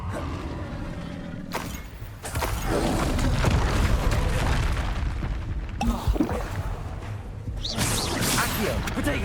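Fire spell blasts in Hogwarts Legacy, a fantasy video game, sounding as a dense, loud roar of booming impacts and whooshing effects that fills most of the clip.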